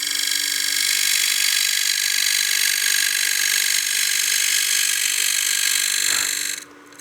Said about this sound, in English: as I advance this, I want to make sure that my scraper is nice and parallel to the lathe bed